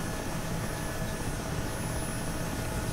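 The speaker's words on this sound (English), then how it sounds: "right now I'm in an Mi-8 helicopter" An Mi-8 helicopter in a video game gives a steady, loud engine and rotor roar with a broad, unbroken wash of noise throughout.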